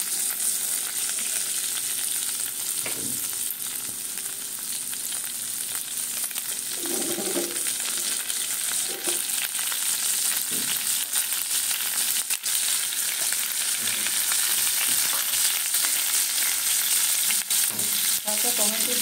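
Prawns fry lightly in hot oil in a pan with a steady, loud, close sizzling hiss throughout, broken now and then by soft knocks of a spatula stirring.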